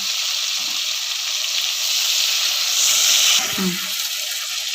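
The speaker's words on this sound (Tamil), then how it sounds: "தக்காளியை நல்லா வதக்கிடுவோங்க" Onions and tomatoes sautéing in a pan for a home-style Tamil chicken curry, a steady bright sizzle with a brief stirring scrape near the end, close and continuous, no talking.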